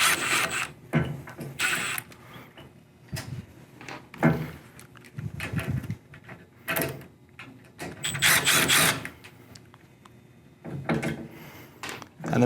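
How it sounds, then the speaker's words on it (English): A Phillips drill backs stainless steel screws out of a panoramic door's bottom track in short bursts of whirring and grinding. The bursts are separated by quiet pauses, close up and with no talking. "So with a Phillips drill, we're going to take out both screws."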